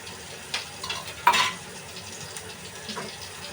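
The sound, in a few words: onion and tomato sautéing in oil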